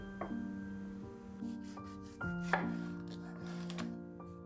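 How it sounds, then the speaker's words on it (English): Knife slicing through grapefruit, orange and lemon on a board, a few soft cuts with steady tonal music over them. "I'm slicing up a grapefruit, an orange, and a lemon."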